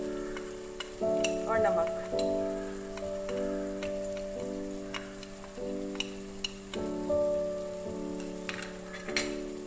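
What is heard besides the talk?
meat frying with spice powders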